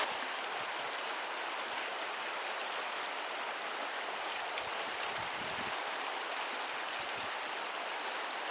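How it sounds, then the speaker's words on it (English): Rushing river water on the Tallulah River, a loud, steady broadband roar of flowing current close by, continuous and without talk. "The water is so loud, I can't hear when the camera turns itself off."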